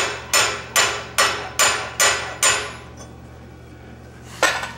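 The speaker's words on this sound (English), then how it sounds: "I'm using the smaller hammer because I don't need to move a large mass." A blacksmith strikes with a smaller hammer while upsetting an edge on hot metal at a smithing conference: six evenly spaced ringing blows, then a pause and one more strike, close and bright.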